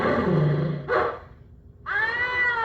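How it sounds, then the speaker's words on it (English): Electronic cat sounds from a Bad Cats pinball machine play loudly and close: a drawn-out yowling meow, a brief gap, then another tonal, wavering meow. "Bad cat. Meow. Meow, meow, meow, meow. Bad kitty."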